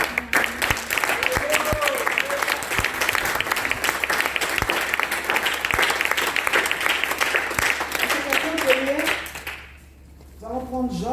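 A church congregation at a seminar claps loudly in steady, dense applause with voices cheering and calling out over it, then the clapping cuts off abruptly near the end and a voice continues.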